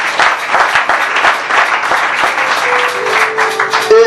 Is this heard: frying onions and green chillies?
no